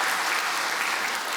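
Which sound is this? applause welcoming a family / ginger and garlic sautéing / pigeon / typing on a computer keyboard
applause welcoming a family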